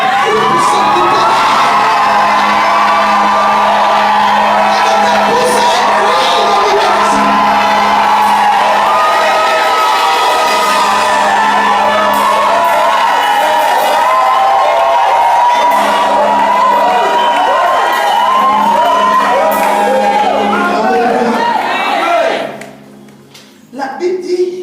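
A church congregation shouts and cheers in worship, a sustained wall of many raised voices and whoops that carries on loudly for about twenty seconds before dropping off suddenly.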